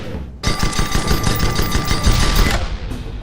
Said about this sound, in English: Shoot at that target dummy's hull till it breaks.